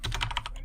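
Quick clicks of a computer keyboard while entering SQL code, about six rapid, close keystrokes in under a second, alone without speech.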